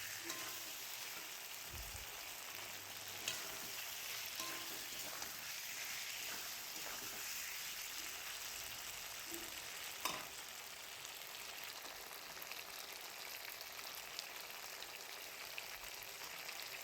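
Boiled taro and potato being sautéed in spice paste in a pan for a Bengali tengra fish curry, giving a steady, continuous sizzle with occasional scraping stirs and faint pops, with no one talking.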